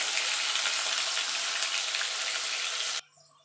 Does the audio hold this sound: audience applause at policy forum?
no